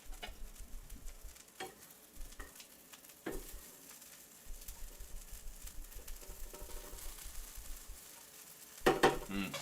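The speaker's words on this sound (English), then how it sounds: "Sizzle ASMR." Potatoes sizzling and frying in a pan while being stirred, a steady crackling hiss with occasional scraping and clattering against the pan, fairly close and continuous with no talk.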